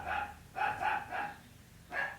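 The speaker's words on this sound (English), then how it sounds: "I just got puppies. Can you hear?" Several puppies yap in quick bursts, three clustered barks followed by a pause and one more, moderately close indoors with no talking.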